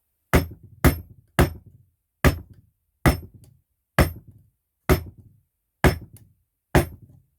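Eight evenly spaced mallet taps on a woodworking chisel cutting a mortise, each one a sharp, close knock with a short fading ring, separated by clear pauses.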